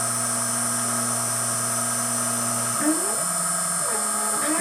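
Steady CNC machine whine with high-pitched tonal hum, then the pitch shifts and wavers as a 6.5mm drill bites into a bed guide block on an Emco F1 CNC mill, loud and close.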